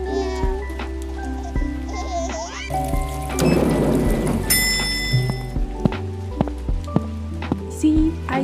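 Rain falls in the Avatar World game, a soft hiss that thickens into a denser downpour partway through, layered with tonal game music and scattered clicks and chimes.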